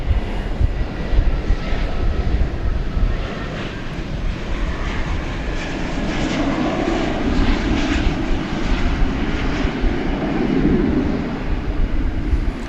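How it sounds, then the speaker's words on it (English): A United Airbus A321neo jet at DFW Airport at night produces a sustained, fairly close engine roar with a broad rumbling wash that swells slightly toward the end. "It's a United Airbus A321neo."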